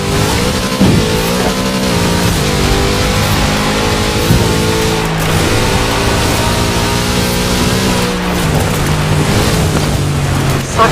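Big Chevrolet car engine in the Forza Horizon 4 racing game, droning and revving steadily with shifting pitch throughout, loud and continuous with no talk.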